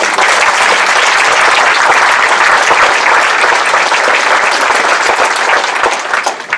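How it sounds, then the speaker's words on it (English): A large crowd applauds loudly and steadily at a Rhode Island rally for affordable health care and front-line health workers, a dense wash of clapping that holds throughout and thins slightly at the very end. "Let's give another round of applause"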